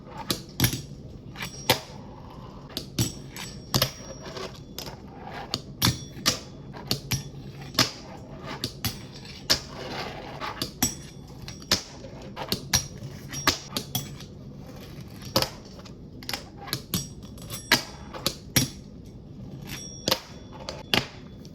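Skateboard tricks on Obsius trucks: sharp, loud clacks and pops of the board landing and snapping, spread irregularly with some rolling and grinding noise between them, and no talking.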